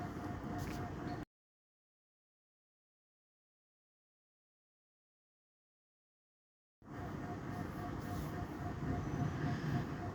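A train ride rumbles with a steady, loud carriage roar and rattle, cut by a long stretch of total silence before the rolling noise resumes.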